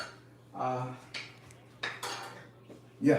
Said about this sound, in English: Now, in the meantime, we're gonna pan fry this.